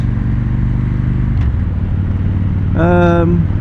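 A 2016 Victory Judge motorcycle with performance exhausts rumbles low and steady while riding, then briefly rises in pitch near the end, with someone talking over the engine noise.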